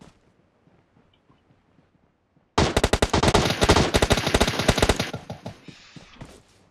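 Loud burst of automatic gunfire in the battle royale game PUBG on the Sanhok map, a rapid run of close shots lasting a few seconds after a quiet stretch, with faint background sounds before it.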